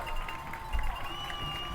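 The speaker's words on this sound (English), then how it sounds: "The Rocket crowd is on their feet." A high school football crowd cheers at Hicks Field during an IHSA 3A playoff game, a steady broad roar of distant voices with music or horn tones threaded through, sustained and moderately loud throughout.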